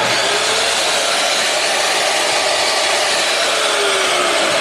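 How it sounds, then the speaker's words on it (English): Chop saw running on power from a budget solar power system, a loud, steady high-pitched motor whine that holds unbroken throughout, close by and with no talking. "the first thing I want to do is make sure it'll run my chop saw"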